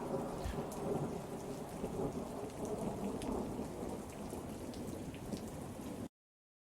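Steady rain pours down with rumbling thunder rolling beneath in a 1995 Discovery Channel PC game, a continuous stormy wash that cuts off abruptly into silence at the end.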